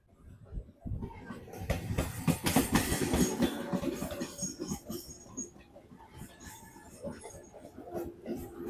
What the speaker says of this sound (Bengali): ট্রেন কিন্তু আমাদের হাওড়া স্টেশন থেকে ছেড়ে দিয়েছে।